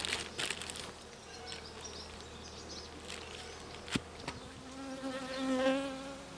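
Honey bees buzz around a Ukrainian-Alpine hive with a twelve-frame Ukrainian body, a constant soft drone with individual bees passing close and loud, swelling near the end.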